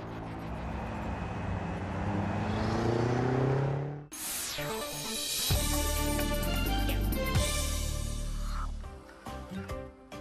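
A BMW X6 M engine pulls hard for about four seconds with a rising, loud note, then cuts abruptly to music.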